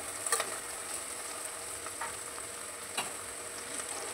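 Ginger garlic paste sizzles steadily in hot oil for a palak paneer, a continuous close frying hiss with a few brief sharper crackles and no voices.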